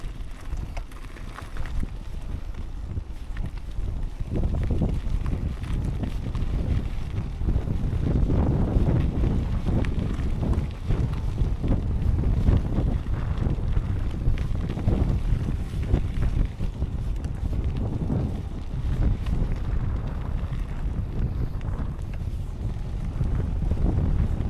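Gusty wind buffets the microphone outdoors during a hilly ride on a DIY electric mountain bike, a loud, steady, low roar that lasts the whole clip with no talking.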